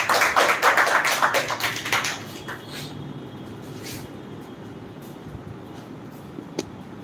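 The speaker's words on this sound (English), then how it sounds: "So please clap for him" An audience at a spoken English speech session applauds as a speaker is called up. A dense, loud burst of clapping lasts about two seconds, then thins out and fades into quiet room ambience with a few faint taps.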